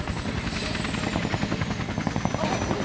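A helicopter in Max Payne 3 thrums with a steady rotor chop and engine drone, loud and close, filling the moment without speech.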